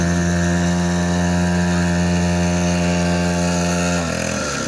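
Small two-stroke pocket quad mini ATV engine revving hard and close with a high buzzing drone that holds steady, then drops off sharply near the end.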